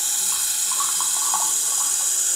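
Cold water runs from a tap into a sink in a steady loud hiss, with faint higher splashes and trickles flickering through it and nobody speaking.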